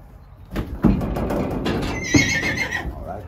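A horse tied inside a trailer whinnies and neighs loudly and close by, with hooves clopping and shifting on the trailer floor in between the calls.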